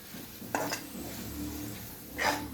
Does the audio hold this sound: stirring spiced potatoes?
yes